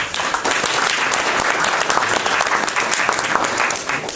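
Welcoming applause from an audience at a Gyeongbuk disability sports association policy workshop, a dense, steady burst of many hands clapping loudly throughout, with faint voices beneath.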